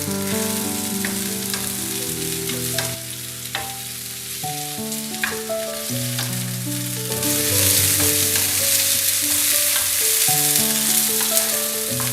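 Chopped onions sautéing in a pan for gola kabab, a continuous loud sizzle over music, growing brighter and hissier partway through, with no speech.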